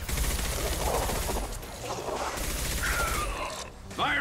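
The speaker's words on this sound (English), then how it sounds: "See, the assault rifle is better than the battle rifle." Assault rifle fire rattles in quick bursts during a Mass Effect 2 firefight, loud and close, mixed with mechanical clatter and impact crashes.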